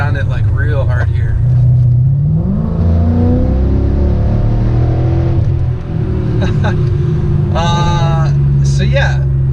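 A supercharged V8 in a Mercedes E55 AMG revs hard, its engine note rising and sweeping upward loud and close, then holding a strong drone, with a person talking over it.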